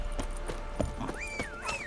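Roach, the horse in the video game The Witcher 3, heard as clopping hoof steps with a neigh or whinny rising over them, close and moderately loud with game ambience.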